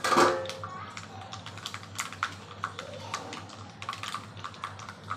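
Mustard seeds splutter in hot oil for a buttermilk curry, making a dense, continuous crackle of small rapid pops with a few sharper bursts.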